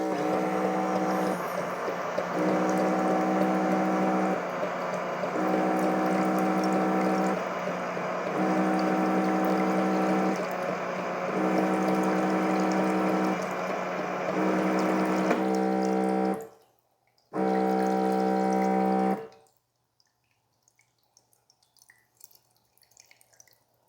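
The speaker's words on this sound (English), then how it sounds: "when the machine stopped running, there was still water coming out" A Baby Brezza Formula Pro Mini formula machine runs a 10-ounce water cycle into a cup, giving a steady mechanical hum with pouring water that pauses and resumes at regular intervals, then stops abruptly, leaving faint drips afterward.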